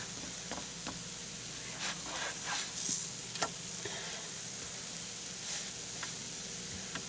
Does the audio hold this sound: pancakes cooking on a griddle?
yes